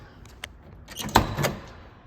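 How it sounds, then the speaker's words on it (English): Door of a 1964 Ford Galaxie 500XL convertible working, with a faint click early on, then a louder latch thunk with rattling as it shuts, close up and without talk. "Doors open and close just nicely."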